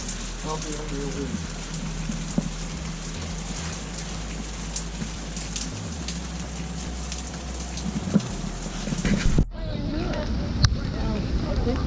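Steady rain patters on surfaces close by, with occasional drips and a sudden rustling thump near the end.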